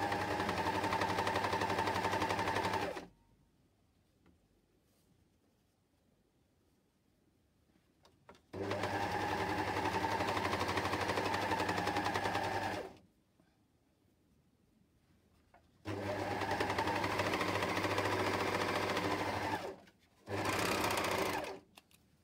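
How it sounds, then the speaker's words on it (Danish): An air overlock sewing machine stitches fabric strips together with a gathering attachment, running in loud steady whirring bursts of a few seconds each, separated by quiet pauses, with a final short burst at the end. "så jeg kan komme til at sy uden at lave rynker"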